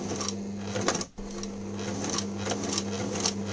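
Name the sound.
sewing machine stitching fabric in zigzag stitch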